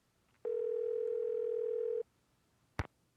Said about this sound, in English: I think it's right because the phone number is ringing up here.